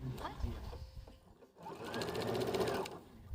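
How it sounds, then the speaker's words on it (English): A sewing machine stitches a straight line down a kitchen towel, its fast, even mechanical whirr running steadily close by after a moment of talk and a short pause. "I'm going to stitch a straight line all the way down"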